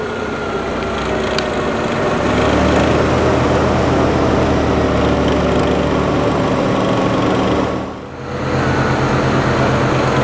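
An off-road vehicle engine on a snowy plateau road revs hard and steadily at close range, a loud droning whine held for several seconds that dips briefly near the end and then picks up again.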